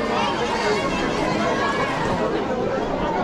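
Busy crowd chatter fills a packed Durga Puja pandal in Kolkata, a constant close babble of many overlapping voices with no single speaker standing out.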